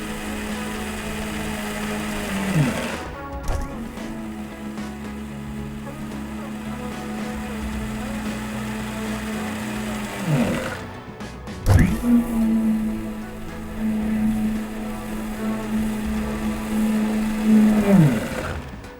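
Coconut being ground in an electric kitchen mixer-grinder, a steady loud whirring motor run with a few pitch drops and restarts as the jar is pulsed, over a continuous roughly twenty-second stretch with some voices in the background.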